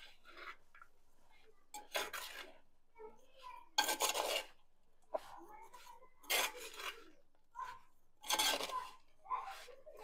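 Jaggery and beetroot are stirred in a pan until the jaggery dissolves, giving repeated scraping, rasping strokes in bursts with quiet pauses between them and occasional faint clinks.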